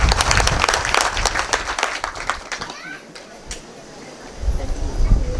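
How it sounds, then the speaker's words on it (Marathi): Applause from a seated audience at a devotional kirtan gathering, dense clapping up front that thins and fades midway, then a few louder bursts near the end, with some crowd murmur mixed in. "त्या लेकरासाठी टाळ्या वाजवतो."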